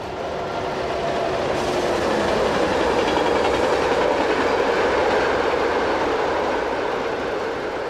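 A freight train rolls along a busy main line through the Saône valley between Dijon and Lyon, a steady, loud, continuous rumble of wagons with a faint rhythmic clatter running for several seconds, with no voices.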